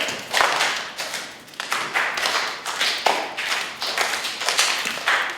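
A circus performer tosses a prop and claps, producing a quick series of sharp hand claps and taps in an uneven repeating rhythm, close and fairly loud.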